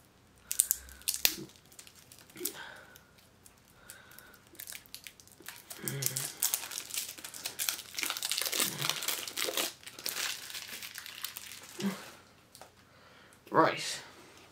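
Crinkling plastic wrapper as a Sorcerer card game box is opened, intermittent close-up rustles and crackles with pauses, while someone talks between the handling noises.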